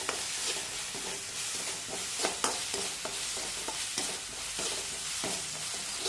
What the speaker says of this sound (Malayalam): എന്നിട്ട് 1 മിനിറ്റ് നന്നായി ഒന്ന് ഇളക്കാം.